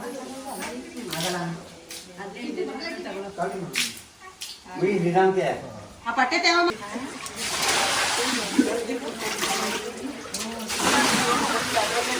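Water sloshes and splashes as it is poured out of a drum, with people talking over the first half before the gushing takes over.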